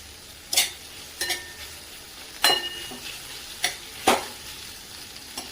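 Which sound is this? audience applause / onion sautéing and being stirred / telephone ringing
onion sautéing and being stirred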